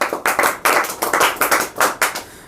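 A classroom of students claps hands together in quick, distinct bursts, about ten sharp rounds in rhythmic succession, loud and close, with no talk over them.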